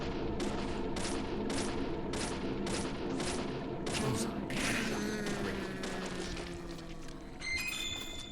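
Rapid gunfire in the horror video game Deadly Premonition, a run of evenly spaced sharp shots over a dense, loud background of game sound, ending in scattered clatter and ringing tones.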